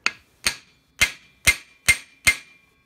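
Six sharp metallic hammer blows on an impact screwdriver loosening a screw on a Suzuki Duster TS125 motorcycle, evenly spaced and close, with ringing decays and no talk.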